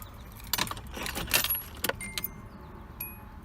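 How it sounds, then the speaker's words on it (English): Key jangling and clicking in the ignition of a Nissan 240SX project car with an RB20 engine that won't start, a few sharp metallic clinks and clicks up close, followed by quiet. "So that is the ignition on."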